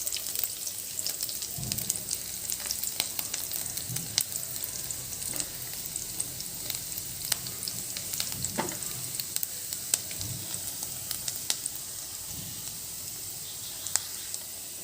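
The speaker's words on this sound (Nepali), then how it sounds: "यो तत्तेको तेलमा चाहिँ म यो जुन चाहिँ लसुन छ नि अघि काटेको, त्यो लसुनलाई यसरी एड गर्दैछु।" Chopped garlic fries in hot oil with a steady, close sizzling hiss, broken by occasional scraping and clicking strokes from stirring, with no voices.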